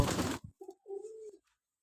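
A pigeon at a breeders' loft gives a short, soft two-part coo, close to the microphone and alone after a brief burst of noise, then silence.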